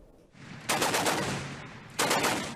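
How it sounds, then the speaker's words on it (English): Gunfire during armed clashes in Tripoli, Libya: two bursts of rapid automatic shots, the first lasting about a second and the second starting near the end, loud with a rough, reverberant tail. "Armed clashes have resumed in the Libyan capital Tripoli after LNA commander Khalifa Haftar"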